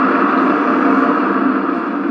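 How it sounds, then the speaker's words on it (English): Underwater noise of boat and ship traffic in the ocean: a loud, steady, broadband drone that holds without a break from start to finish, with no voices. "It's the sound of boats."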